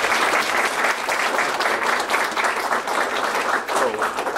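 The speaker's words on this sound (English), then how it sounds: "So please, your applause again." Sustained audience applause for a keynote speaker at a technology conference, dense steady clapping from a large crowd filling the whole stretch at an even, loud level.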